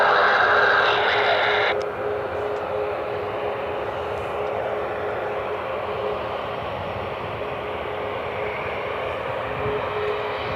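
Steady jet engine roar from a Boeing 737 MAX airliner nearby at Cleveland Hopkins airport, a continuous loud whine and rumble with a brighter hiss at the start that drops away.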